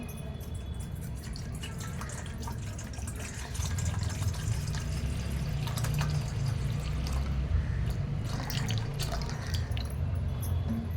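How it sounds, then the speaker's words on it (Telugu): Water poured into a small bowl outdoors near vegetable plants, a soft continuous trickling and splashing that grows slightly fuller partway through, with no voices. "వాటర్ వేసుకున్నాను"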